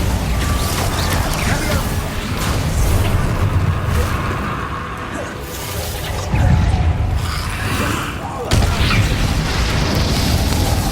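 Confringo and Bombarda spell blasts from Hogwarts Legacy, a dense, continuous barrage of booming explosions and crashing impacts, loud and close, with sharp bursts near the middle and end and no pause between them.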